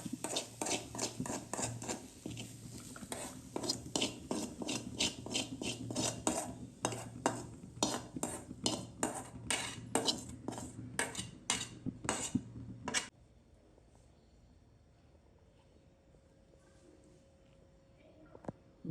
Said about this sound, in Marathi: असं भाजून घ्यायचं.